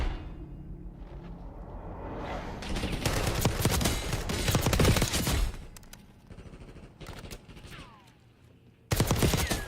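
Rapid bursts of automatic gunfire in Call of Duty: Black Ops, loud volleys of shots rattling over several seconds, a short lull, then another sharp burst at the end.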